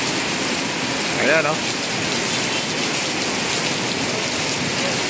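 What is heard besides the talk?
heavy rain falling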